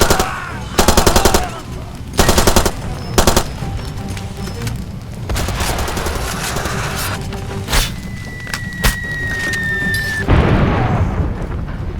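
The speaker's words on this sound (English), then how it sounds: "Much of the game consists of driving and shooting." Machine gun fire in the video game Far Cry 2, with several loud rapid bursts, heavy booms and a sustained stretch of shooting against game ambience.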